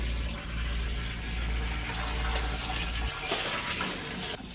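Water pours into a pool sand filter tank being refilled during a media change, a loud, continuous rushing fill whose tone shifts near the end, with no talking.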